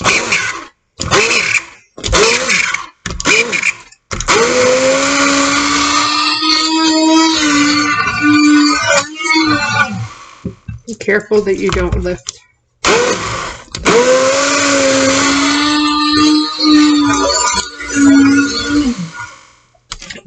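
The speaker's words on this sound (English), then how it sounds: "I'm actually going to puree it with the stick blender" A stick blender purees cooked tomato sauce for a basic sauce, whirring steadily in long stretches between pauses while a person talks over it nearby.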